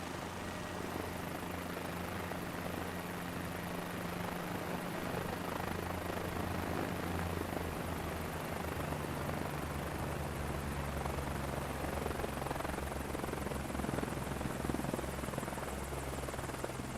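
Steady, continuous helicopter rotor and engine drone from a Microsoft Flight Simulator career-mode flight, loud and unbroken throughout with no speech.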